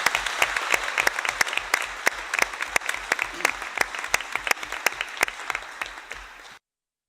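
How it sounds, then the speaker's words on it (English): Audience at a closing plenary session of a landscapes forum in Nairobi applauds steadily, with dense clapping and sharp individual claps for about six seconds before cutting off abruptly. "Please give Joy an extra round of applause"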